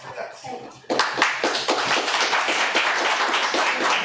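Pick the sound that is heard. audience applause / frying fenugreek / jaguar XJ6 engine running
audience applause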